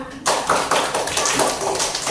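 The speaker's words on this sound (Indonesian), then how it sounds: "Tepuk tangan dulu untuk semuanya." A classroom of students claps together for their classmates, a dense burst of many hands close by that sets in sharply after a brief quiet moment and continues steadily, with no talking over it.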